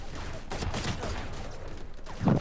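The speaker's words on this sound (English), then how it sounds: "Why do I hear so much shooting but nobody has died yet?" Rapid video game gunfire rattles in bursts, with several overlapping shots from mid-distance and a louder close burst at the end.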